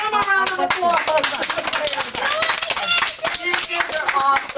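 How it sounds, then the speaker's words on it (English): Applause from a crowd of children and families at a carnival stage show, dense steady clapping sustained throughout with shouts and cheers mixed in. "let's do one more round of applause"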